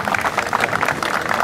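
A crowd applauds honored guests, a governor and a mayor, at a civic award ceremony, with a short stretch of brisk, steady clapping at moderate loudness.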